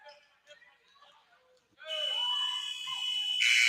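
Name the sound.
basketball end-of-period buzzer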